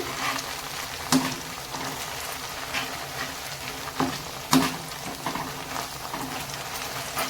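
Batter or mixture frying in hot oil, with a steady crackling sizzle broken by a few sharper clinks and scrapes of stirring, heard close up with no talking.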